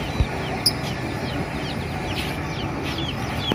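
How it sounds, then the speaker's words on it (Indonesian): Chickens clucking in a busy, noisy setting, the calls scattered and fairly distant beneath a steady background hum. "Ini ayamnya yang banyak guys."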